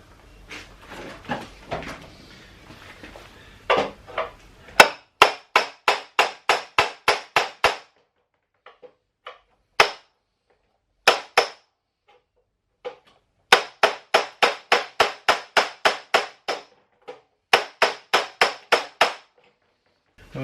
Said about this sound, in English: I've just been hammering that out.